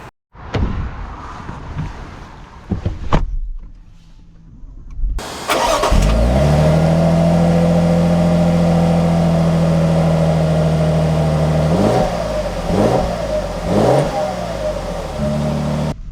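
A Lexus LX 600 F Sport SUV starts up after a few faint interior clicks, its engine catching loudly and settling into a steady hum, then rising in several revs as it pulls away and drives.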